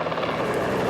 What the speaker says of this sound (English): in a tiny Bell helicopter with a kamikaze pilot named Dave